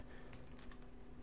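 Keys on a glitching computer keyboard are tapped in a quick, quiet burst close by, with no voices.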